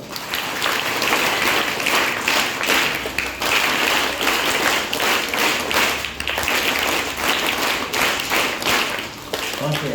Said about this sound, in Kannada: ಒಂದು ಜೋರದ ಚಪ್ಪಾಳೆ